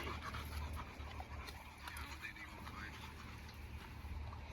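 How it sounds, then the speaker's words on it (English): Puppies panting rapidly with occasional faint whimpers, close and continuous against a noisy background, with people talking nearby. "They just puppies, man."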